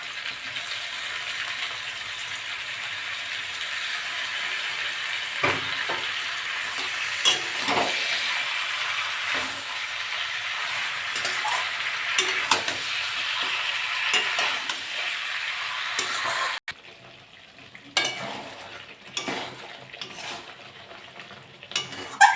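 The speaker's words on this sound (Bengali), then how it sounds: "গ্যাস কম করে দিয়ে এরকম আস্তে আস্তে হবে সিদ্ধ হয়ে যাবে মাংসগুলো" Chicken pieces cook in a pan over a low gas flame, giving a steady close sizzle with occasional stirring scrapes, which drops away near the end to quieter clinks and shuffles.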